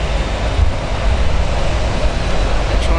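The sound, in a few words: aircraft engine starting up at an airport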